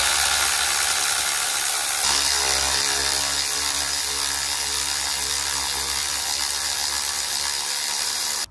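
Power tool whirring steadily as it removes alternator bolts from a vehicle, a loud continuous mechanical buzz that shifts pitch partway through and cuts off abruptly at the end.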